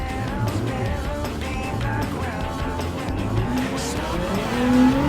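Race car in Gran Turismo 7 at Le Mans losing grip, engine drone under wavering tire squeal that rises and swells toward the end, loud and continuous.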